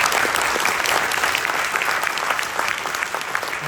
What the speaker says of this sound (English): do we get a round of applause for South Africa?